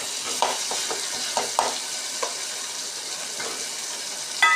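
Onions and masala frying in a pan for a minced-meat kola urundai kuzhambu, a steady close sizzle broken by a few scraping stirs of the spoon.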